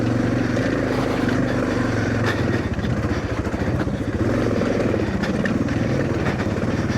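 A Suzuki DR650 motorcycle's single-cylinder engine labours up a steep, rough climb, a loud close throbbing drone that dips and surges under hard clutch work, with rattles and clatter over the top.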